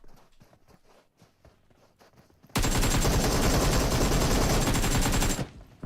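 Gunfire in the mobile battle-royale game PUBG Mobile erupts as a loud, dense, continuous burst lasting about three seconds, preceded by quieter scattered shots and movement noises.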